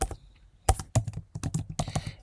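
Short bursts of clicky keystrokes on a Mac keyboard, close up, with a few sharper key hits spaced unevenly over a couple of seconds.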